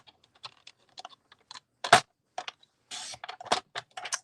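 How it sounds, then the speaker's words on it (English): A paper trimmer slices card stock for a handmade sympathy card: sharp close clicks and taps of the blade and paper, then a brief scraping slide of the cut, with no talk. "I'm just going to go ahead and use the paper trimmer."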